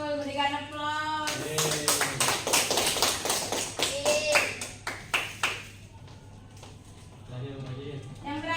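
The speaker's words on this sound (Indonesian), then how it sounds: "Betul, berikan aplaus." A classroom of students claps together during a microteaching lesson, a brisk burst of many hands lasting a few seconds before fading, with a teacher's voice talking before and after.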